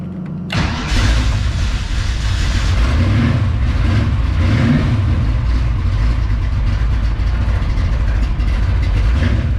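A crash-damaged 1967 Mustang engine cranks and catches after a brief quiet moment, then runs on at a loud, steady idle with a rough rumble, close by and alone.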